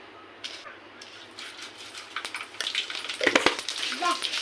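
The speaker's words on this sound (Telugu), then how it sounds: "ఇప్పుడు మనం జీలకర్ర ఆవాలు వేసుకుందాము." Cumin and mustard seeds crackle and spit in hot oil. The sizzle starts faint, then grows louder with sharp popping bursts and a clink of a utensil, close up, with a brief voice in the background.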